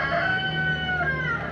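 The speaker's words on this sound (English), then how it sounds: "Chicken says bye." A chicken calls nearby in a short, drawn-out cluck that sounds almost like a crow, loud and clear with nothing else behind it.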